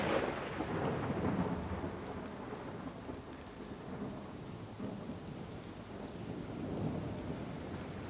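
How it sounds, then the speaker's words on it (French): A thunderstorm breaking: a low rolling rumble of thunder swelling and fading over steady rain, heard alone and moderately distant, with a second swell near the end. "Chez nous, l'orage éclate"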